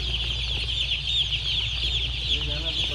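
Day-old chicks, 102 of them packed into one basket in a control shed poultry farm, keep up a dense, shrill chorus of overlapping peeps over a steady low machine hum.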